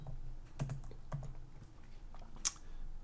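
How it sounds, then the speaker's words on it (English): Computer keyboard typing comes in short irregular bursts of soft key clicks, with one sharper tap near the end, close up and fairly quiet, with no voices. "I'm just going to type in a quick message right here"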